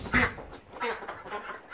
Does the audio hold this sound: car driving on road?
no